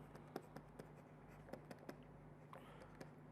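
Chalk or marker writing on a board during a mathematics lecture, a series of faint, quick taps and strokes at an irregular pace over steady room hum, with no talking.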